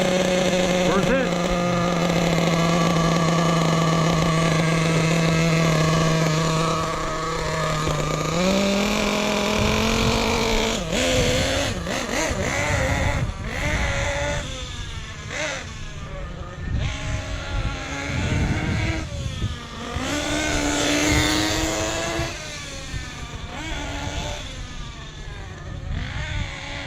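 A Losi 8T RC truck's nitro engine running at three-quarter throttle during break-in, a loud steady high whine that drops in pitch, then revs and surges unevenly, with someone talking over it.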